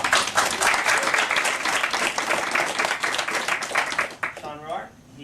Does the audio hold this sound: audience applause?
yes